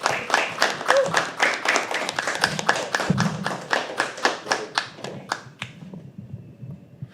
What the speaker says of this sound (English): Let's start clapping.